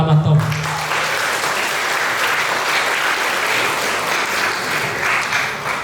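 An audience in a church hall at a confirmation service claps in a steady, full roar of applause that holds at an even level from start to finish after a brief opening tone.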